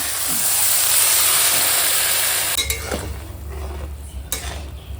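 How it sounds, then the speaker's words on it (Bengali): Water is poured into a pan of spices cooked down for a fish curry, with a loud sizzle that suddenly cuts to a low bubbling rumble, and a couple of light utensil clinks follow. "এখন মশলা কষানো হয়ে গেছে এখন দিয়ে দেবো জল"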